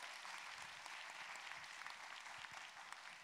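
An audience claps steadily for a few seconds, a dense crackle of many hands at moderate volume.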